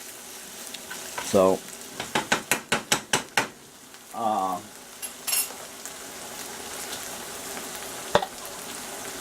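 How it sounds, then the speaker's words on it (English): Tomato paste and tomato sauce sizzle in a pan under a steady frying hiss, broken by a quick series of sharp utensil taps and scrapes against the pan, and someone speaks briefly. "we got our tomato paste cooking in here"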